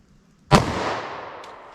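A single sharp, loud gunshot from a short-barrel .45 ACP pistol firing Nosler ASP ammunition, an abrupt crack followed by a long fading outdoor echo, with no talk.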